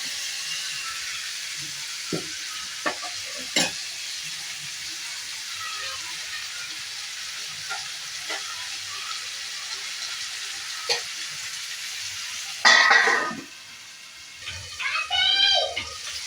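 Tomatoes frying soft in a pan for a dry fish curry: a faint, steady sizzle with scattered light clinks of stirring and a brief louder burst near the end.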